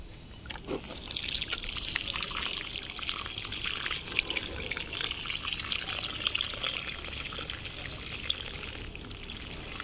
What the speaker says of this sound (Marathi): तर आता त्याला पाणी टाकून घेऊ ता।